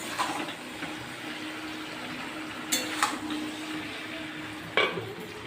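Chicken kosha cooks in a covered pot under a soft, steady sizzling hiss, and a utensil stirs it with three short scrapes and knocks spread out over a few seconds. No voices are heard.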